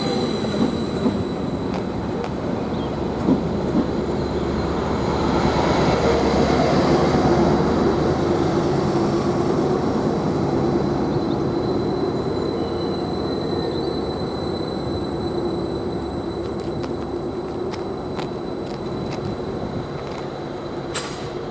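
A Greater Anglia train pulling out of Bury St Edmunds station rumbles steadily nearby, its wheels adding faint squeals and rhythmic clatter as it builds slightly then fades over about twenty seconds, with no talk.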